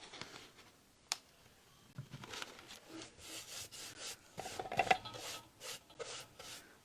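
A paintbrush applies DIY liquid patina over decoupage paper, giving soft intermittent swishing and rubbing strokes, faint and close, with a few light taps between.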